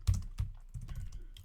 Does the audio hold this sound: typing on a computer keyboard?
yes